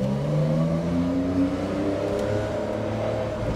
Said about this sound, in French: Écoutez-moi cette sonorité du flat 6.